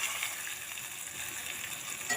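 Mung bean water hits cooked tomato masala in a hot pan and sets off a continuous soft frying sizzle, steady and fairly quiet, heard on its own without any speech.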